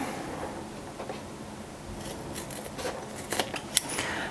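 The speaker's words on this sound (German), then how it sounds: "Die Nahtzugaben werden zurückgeschnitten." Scissors snip through fabric seam allowances while a pencil case is sewn, a run of soft crisp cuts building to sharper clicks near the end, close and alone without talk.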